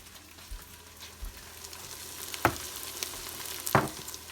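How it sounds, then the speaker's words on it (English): Onions caramelizing in an Instant Pot give a soft, steady sizzle, with a few louder scraping stirs and clinks standing out over the low frying hiss. "we've been cooking down our onions for about 15 minutes, and they're good and caramelized"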